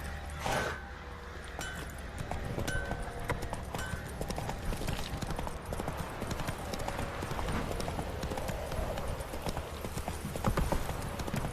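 A horse gallops in The Witcher 3 video game, its hooves clip-clopping in a rapid, steady beat that continues throughout, with faint game ambience and brief speech underneath.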